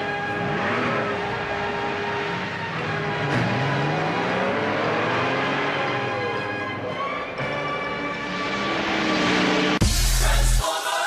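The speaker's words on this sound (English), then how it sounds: "Autobots, start your engines." Engines of the Autobot vehicles in the 1986 Transformers cartoon roar to life and rev in rising, sweeping surges, loud and continuous, blended with a music track and ending in a sharp burst.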